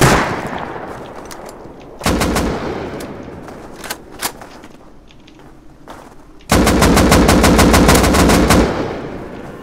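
Bursts of automatic machine gun fire in the video game Rust, loud rapid volleys separated by scattered single shots and a longer sustained burst near the end, with no talking.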